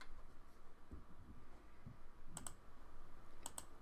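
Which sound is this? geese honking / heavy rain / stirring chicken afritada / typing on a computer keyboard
typing on a computer keyboard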